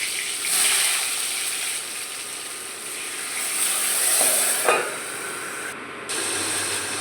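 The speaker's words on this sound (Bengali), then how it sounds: "মিষ্টি আলুগুলো গরম তেলে ভেজে নিচ্ছি" Salted slices of sweet potato fry in hot mustard oil in a kadai, a continuous close hiss with small crackles that swells a little midway, with no voices.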